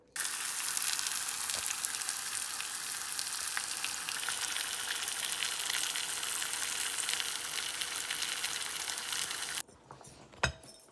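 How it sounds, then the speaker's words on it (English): Sucuk sausage fries in a pan with a constant bright sizzle for most of the stretch, then the sizzle drops away near the end, leaving quieter handling noises and a single sharp knock. "Sucuk. Fry it up in a pan."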